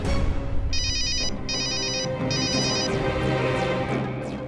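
A phone ringtone in a Hindi TV drama chirps in three repeated electronic bursts, each about a second long, clear and fairly close over a soft background music bed.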